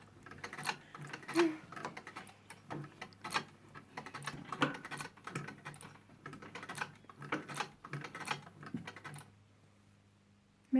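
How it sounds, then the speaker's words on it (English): An old Singer sewing machine stitches in quick irregular bursts of light mechanical clicking and tapping, fairly faint and close, with brief pauses between runs. "And what type of sewing machine is this? This is a Singer."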